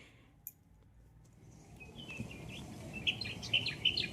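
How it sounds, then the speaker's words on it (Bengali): Birds squabbling among bamboo branches, a few short, sharp chirps that cluster toward the end over a rising background hiss, fairly faint with no talk. "ঝগড়া করছে পাখিগুলো"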